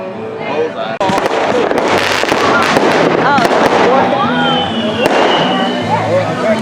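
Fireworks going off in a suburban neighborhood, with dense crackling bursts, whistling streaks and loud bangs packed together, plus people talking and shouting nearby through the barrage.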